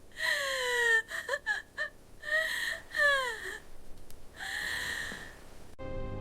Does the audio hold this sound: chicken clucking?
no